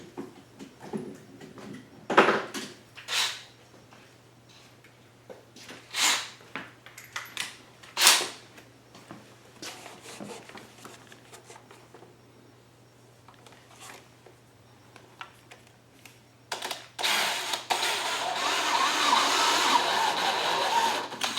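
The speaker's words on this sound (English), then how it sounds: "I don't want to go all the way in with the step drill because I don't want to inadvertently drill the hole too big." Step drill boring into the plastic fuel tank of a Wen 2000 generator: scattered sharp bursts and clicks from short trigger pulls, then a sustained loud drilling whir over the final few seconds, all near the microphone.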